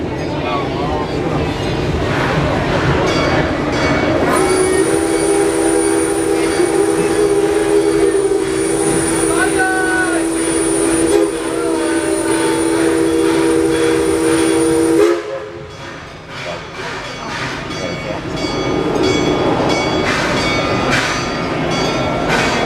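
A Six Flags St. Louis amusement park train in Eureka, Missouri rumbles steadily along the rails, loud and close, with a long sustained whistle-like tone for several seconds before the clatter continues.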